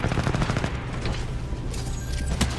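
Rapid rifle fire from Titanfall 2 pilot-versus-pilot multiplayer, a dense continuous burst of gunshots with booming low end, loud and close throughout with no talking.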